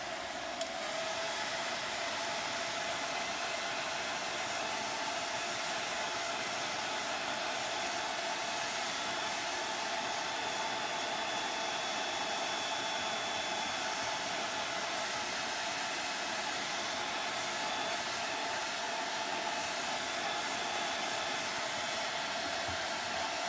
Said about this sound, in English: I'll try drying it with my blow dryer